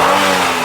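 A Honda Accord engine with a P0505 idle speed fault revs, a loud, close, steady mid-pitched engine drone held for a brief moment with no talking.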